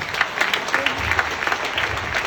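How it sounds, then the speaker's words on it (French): An audience applauds itself at a French motivational seminar, steady clapping with faint crowd murmur running throughout at moderate loudness. "Applaudissez-vous, bravo à vous."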